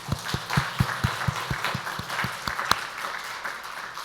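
Applause from a congregation during a Sunday morning church service in a reverberant room, with sharp rhythmic claps standing out steadily over a dense wash of clapping.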